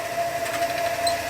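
A wood lathe spins while a boring tool hollows an oak lamp blank, giving a steady mechanical whine with a sustained tone and even, continuous cutting noise.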